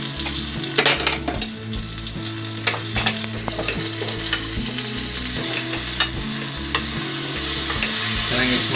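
Jaggery melts in a pan and is stirred, with repeated scraping and knocking of the spoon over a low, bubbling simmer and a soft sizzle that grows slightly louder toward the end; no voices.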